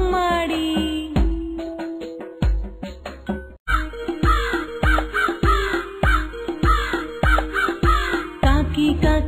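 A crow caws in a Telugu children's nursery rhyme. Loud, rhythmic caw-like bursts repeat in quick succession over the song's bright musical backing, with a brief gap before the pattern resumes.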